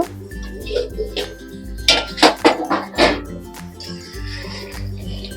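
A pan lid lifted off a pot of chicken cooking in mustard and poppy seed paste, several clanks and metallic clinks among cookware, with a voice talking over them.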